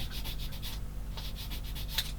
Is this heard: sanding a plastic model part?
yes